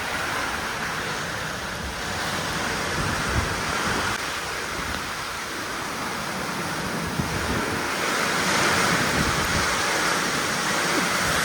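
Heavy rain pours down in a dense, steady roar while gusting wind pushes it around, loud and continuous with slight swells throughout and no voices.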